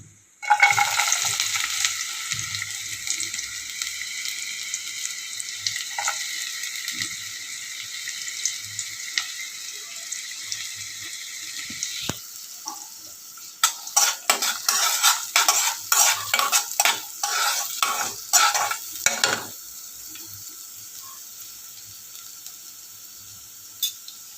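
Half a spoon of cumin sizzles in hot oil, then onion goes into the pan and is stirred, with a steady close frying hiss broken by clustered scraping and clatter of the spoon in the middle stretch.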